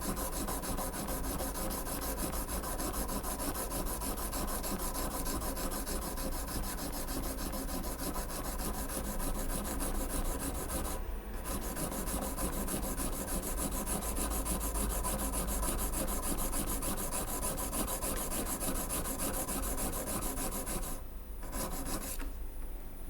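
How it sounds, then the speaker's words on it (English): Carving tool for printmaking being sharpened on a stone, a steady close rasping rub that runs almost without a break, with two short pauses. "get your angle, sit there and sharpen carefully"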